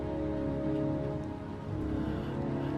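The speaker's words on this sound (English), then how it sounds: "Heavy rain, isn't it?" Continuous downpour of heavy rain in the video game Heavy Rain, a thick, even hiss of drops on surfaces with faint low rumbling beneath, steady throughout and with nobody talking.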